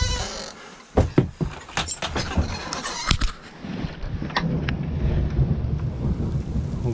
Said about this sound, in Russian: Громыхает.